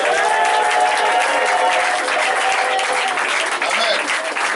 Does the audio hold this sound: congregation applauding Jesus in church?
yes